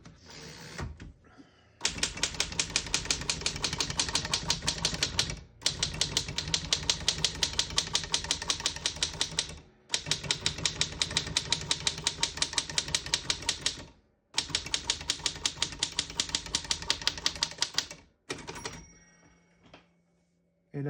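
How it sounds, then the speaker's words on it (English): Typing on a 1931 Royal SX vintage desktop typewriter, close and loud: rapid, even runs of mechanical key strikes in four long bursts, broken by brief pauses and carriage returns, with a bell ding near the end. "as you can see, all the keys type nice and none of them skip or stick"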